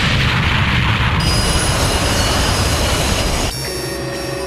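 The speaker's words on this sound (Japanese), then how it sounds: "銀河鉄道の無人貨物が旅立っている" A loud, continuous rumble of an anime unmanned freight train rolling on rails, with steady metallic hiss and a slight drop in intensity near the end.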